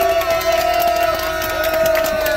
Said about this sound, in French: on applaudit Monsieur Baptiste.